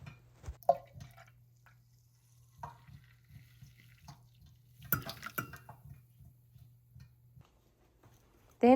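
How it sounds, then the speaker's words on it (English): A water bottle lid being washed at a kitchen sink with dish soap, with light drips, small plastic knocks and brief splashes of water, close and intermittent under a steady low hum. "Then I'm just using some Dawn Power Wash to clean off the lid so that it gets nice and clean as well."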